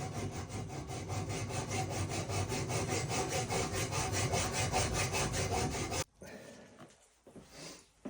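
A hand saw cuts a part during work on a Yamaha WR500 motorcycle, steady rhythmic back-and-forth rasping strokes close up for about six seconds, then stopping into quieter handling noises.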